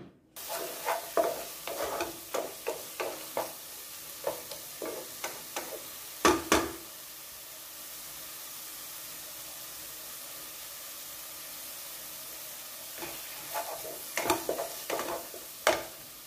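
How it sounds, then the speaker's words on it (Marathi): Tomatoes and ginger frying in a pan, heard as a run of rhythmic stirring scrapes over a soft sizzle, pausing midway to a steady hiss before the stirring strokes return. "टोमॅटो 2 ते 3 मिनिट भाजून घेऊया"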